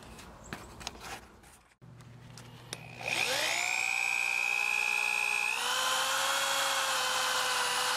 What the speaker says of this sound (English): going to go ahead and drill my holes at the up to half inch wide